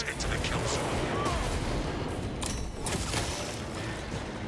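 Continuous heavy gunfire and explosive booms in the video game Space Marine 2, dense and loud throughout with a player talking over the action.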